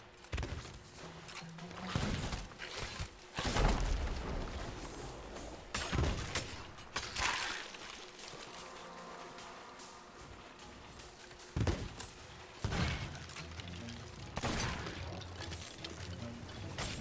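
Sea of Thieves gunfire: repeated loud bangs and crashes spread across the stretch, irregularly spaced, amid busy game noise.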